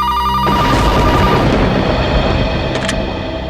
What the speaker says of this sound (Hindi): इतनी रात को? दिन में तो कभी फोन की घंटी बजती नहीं।